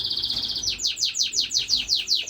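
Pet birds, mostly Gouldian finches, chirp in a home bird room, a quick series of high, repeated tweets close by and alone, with no talking.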